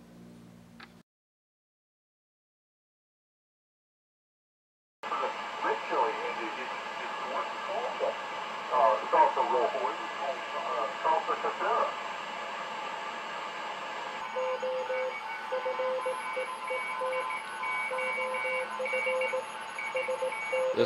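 A 1942 WWII BC-312-N receiver (Farnsworth) tuned to 40 meters CW, giving several overlapping Morse tones over band hiss after a brief silent gap, with the signal mix shifting partway through.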